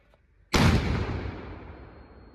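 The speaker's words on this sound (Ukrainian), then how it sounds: "Постріл!" A single loud gunshot cracks out after a quiet moment, its boom rolling and fading into a long echo.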